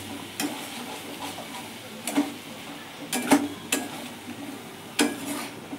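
Spice paste with a little water stirred in a kadai: a low steady sizzle broken by several sharp spatula taps and scrapes against the pan, close up.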